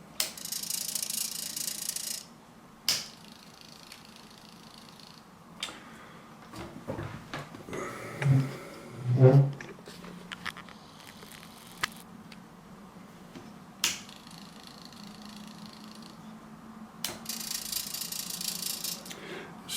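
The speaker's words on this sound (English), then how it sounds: "Excuse the noise on that particular servo." Small servo motors on a twin servo control demo board whirring and buzzing in short bursts, with ratcheting, clicking gear noises and faint rattles at low volume, separated by quiet pauses.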